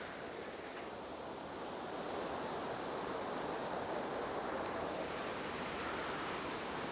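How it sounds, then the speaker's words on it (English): Heavy rain pouring outside the rainforest dome at the Eden Project, a steady, dense roar that stays loud and unbroken throughout, with no voices. "Can you hear that noise? It's pouring outside"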